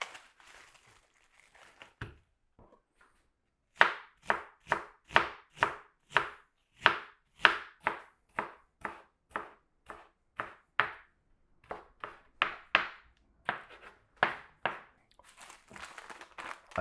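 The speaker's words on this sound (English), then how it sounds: "Chop up some red onion." A knife chops red onion on a cutting board in a quick run of crisp, evenly spaced strikes, close and clear, after a brief quiet pause, with no talking.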